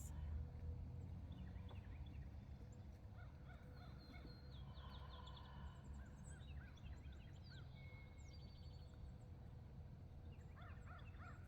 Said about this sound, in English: we can hear lots of birds